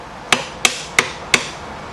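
Chisel struck into wood with a mallet to cut a V-notch, four sharp, evenly spaced knocks at a steady rhythm, close and fairly loud, with no speech.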